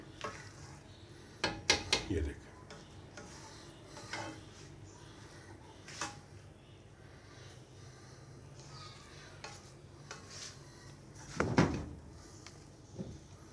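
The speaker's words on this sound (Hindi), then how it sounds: "मैं अभी इसको अच्छी तरह मिक्स कर दूँगा" Jaggery rice is stirred in a cooking pan, with a spoon scraping and clanking against the pan in irregular bursts over a soft background sizzle, close up and without speech.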